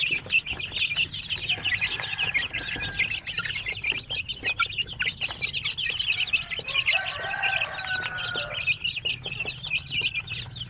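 Chickens cluck and chatter continuously around a small poultry farm, busy overlapping calls close by with occasional louder squawks, no talking.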